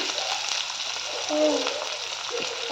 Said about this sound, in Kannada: ಇದನ್ನು ಹಾಕಿ ಫ್ರೈ ಮಾಡ್ಕೊಳ್ತೀನಿ